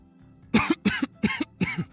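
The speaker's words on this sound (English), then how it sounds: "only to be interrupted by a cough. A very normal terrain-like cough." A character in a visual novel game gives four short, dry coughs in quick succession, each a sharp burst followed by a softer catch, close and clear against silence.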